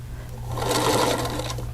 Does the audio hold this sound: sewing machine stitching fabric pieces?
yes